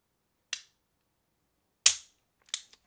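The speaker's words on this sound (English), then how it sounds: "Keeping the trigger pinned to the rear, we'll rack the slide," Sig Sauer P-series pistol with an enhanced leverage trigger kit, slide racked while the trigger is held back: three sharp metallic clacks, close and crisp, separated by silence, the last a quick double click.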